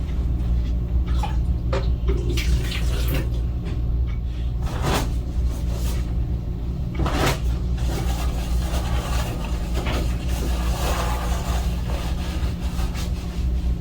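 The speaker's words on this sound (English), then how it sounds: "And now I will rinse the bedpan. I get water, I rinse, and dispose back in the toilet." Water sloshes and pours steadily as a bedpan is rinsed and emptied into a toilet, with continuous running and splashing plus a few brief clunks of handling during a CNA skill demonstration.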